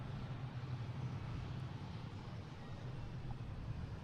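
Cape Air plane flying near Boston Logan airport, a steady broad engine drone with a low hum, continuous and moderately loud with no talk over it.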